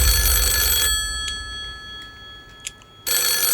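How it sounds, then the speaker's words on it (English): An old-style phone ringing on a game show, heard as the banker's call: a steady ring at the start, then quiet with faint clicks, and a second ring cutting back in at the end. "when the banker literally rung Noel"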